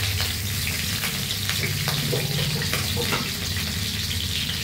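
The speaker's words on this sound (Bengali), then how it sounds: "সবার প্রথম আগে আমি ফুলকপিটা ভেজে নেব।" Cauliflower fries in hot oil with a loud, constant sizzle and crackle, punctuated by occasional scrapes of stirring.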